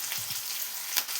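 Onion, green chillies, dry red chillies and curry leaves with salt frying in a pan for coconut rice, giving a steady close hiss of sizzling oil with a couple of soft stirring knocks and one brief louder crackle.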